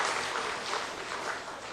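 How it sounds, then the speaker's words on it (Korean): A church congregation breaks into a short burst of dense, steady applause, many hands clapping together at moderate volume. "우리 박수 쳐주자. 박수 좀 쳐줘요 좀."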